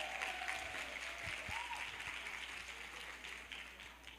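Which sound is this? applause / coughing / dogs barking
applause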